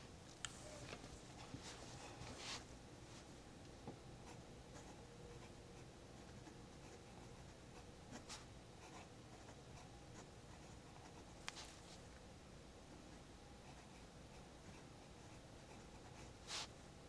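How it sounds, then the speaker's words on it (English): Fountain pen writing on paper, an Esterbrook Estie converted from rollerball, gives a steady soft scratch for the whole stretch, with a few sharper ticks of nib strokes and lifts standing out close and alone. "So let's just do a little writing sample."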